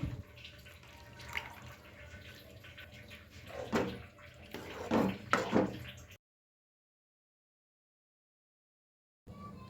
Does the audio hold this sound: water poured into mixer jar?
yes